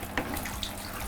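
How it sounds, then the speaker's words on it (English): Water runs steadily from the tap of an RO filter during nano tank maintenance, a close, even hiss with a couple of small splashy bursts. "I have to open this tap here"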